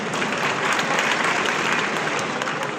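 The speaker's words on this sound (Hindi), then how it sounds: "जोरदार तालियां" Loud, dense applause from a rally crowd at a Bhim Army national convention, a continuous roar of many hands clapping at once, steady from start to finish with no voices on top.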